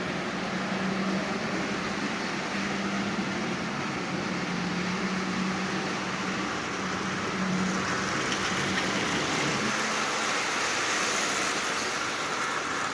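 A 1998 Marx A.T.S.F. toy train E unit locomotive with a manual E unit installed, running on DC power, gives a steady close whirring motor hum with a faint low drone, continuous and unbroken with no talking.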